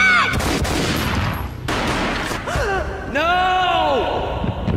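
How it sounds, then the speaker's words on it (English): Gunfire in a Max Payne cutscene: sharp loud bangs amid dense action noise, followed by a voice crying out and gasping. "A gunshot boomed"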